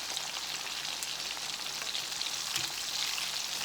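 Mustard-coated catfish nuggets fry in hot oil with a constant, dense crackling sizzle, close and steady throughout, with no talking.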